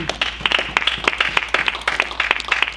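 A church congregation claps in a brisk, steady rhythm of sharp hand claps, moderately close and lively, with faint voices underneath.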